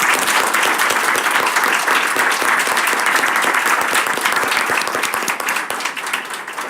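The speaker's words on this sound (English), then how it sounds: "Can we have a round of applause?" Dense applause from an audience at a school board session fills the room, loud and steady, tapering slightly at the end.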